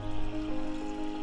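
A quarter cup of water is poured into cookie dough for homemade cookie cereal, a soft, steady trickle heard close by and alone for about a second.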